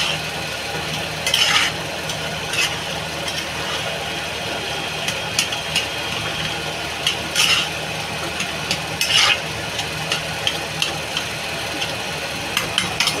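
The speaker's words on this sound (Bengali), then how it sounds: "পোস্তটা একটু নেড়ে দেবো।" Poppy seed paste (posto) being stirred in a pan, giving a steady low cooking hiss with several brief scraping strokes scattered through, fairly soft and with no talking.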